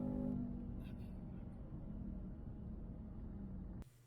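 A 2015-2023 Ford Mustang on a test drive gives a faint, muffled engine rumble that holds steady from inside the car, then cuts off abruptly near the end.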